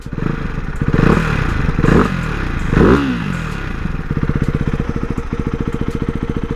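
A 2024 Ducati Hypermotard 698 RVE single-cylinder motorcycle blips its throttle three times in loud, rising bursts. It then settles into a close, rapid, even idle chug.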